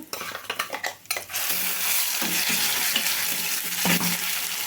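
Spoon stirring ridge gourd peel chutney with its tempering of onion, asafoetida, dried red chilli and curry leaves in a metal pan: a few sharp scraping clinks first, then a steady close sizzle with occasional light stirs, no voices.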